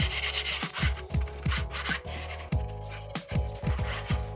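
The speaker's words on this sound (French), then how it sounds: "là je vais égrener le support avec un couteau 12 cm de largeur" A 12 cm knife scraping plaster joint compound off a drywall corner, a run of repeated rasping strokes at a quick irregular rhythm, close and fairly loud, with no speech.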